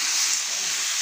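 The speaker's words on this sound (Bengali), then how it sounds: "সবজিগুলো বেশ ঢেলে দিচ্ছি" Vegetables dropped into a hot pan sizzle with a bright, steady hiss, loud and close, sustained evenly for about a second without talk.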